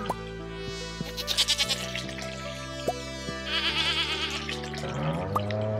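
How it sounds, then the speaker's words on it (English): Farm goats in the Stardew Valley video game let out several short, wavering bleats that repeat over cheerful background music with soft dripping tones, and no talking. "And now for the cows slash goats, which are a little bit more tricky, because I have to hand feed them."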